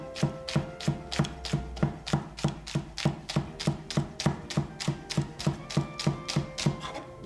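Leek, celery and onion are chopped finely for a fish dish, a fast, even run of knife strikes on a cutting board, close and steady throughout, with no talking.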